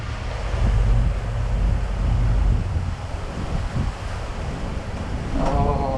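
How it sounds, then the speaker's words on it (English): Strong wind buffeting the microphone aboard a motor-sailing boat in New Zealand's Colville Channel, steady and loud with the wash of water beneath. No one speaks. "And we have been rewarded with wind."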